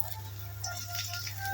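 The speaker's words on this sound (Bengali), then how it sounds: "তেলটা একটু গরম হয়ে নিছে, এবার পেঁয়াজ আর রসুন কুচি দিয়ে দিলাম।" Chopped onion and garlic frying in hot oil for dal, a brief low steady sizzle, faint and close.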